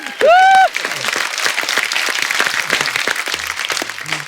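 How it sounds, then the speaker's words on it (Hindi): A brief rising tonal sound effect opens the stretch, then loud, sustained audience applause on a comedy show carries on to the end. "जोरदार तालियां बोरी और चंदू के लिए।"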